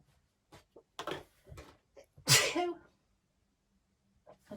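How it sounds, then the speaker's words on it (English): A single sharp sneeze bursts out close by amid quiet, preceded by a few soft sounds and brief speech-like murmurs, with a faint noise afterward. "I feel like I'm going to sneeze"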